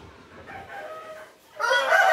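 A rooster crows once in a short, harmonic call that rises strongly toward the end, loud and close, with quieter earlier calling and no talk.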